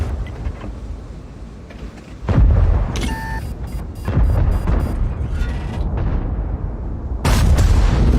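Heavy tank cannon shots and impacts in World of Tanks, with shells striking the tracks and turret of an IS-7. Loud booming blasts and rumbling battle noise fill the scene, with a short high tone partway through.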